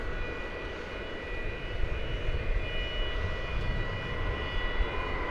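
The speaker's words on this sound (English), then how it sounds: "That was an American Airlines arrival from St. Louis, Missouri, flight 2711, 737-800." American Airlines Boeing 737-800 arriving at DFW Airport from St. Louis, a continuous jet engine roar with steady whine, close and sustained, with no voices over it.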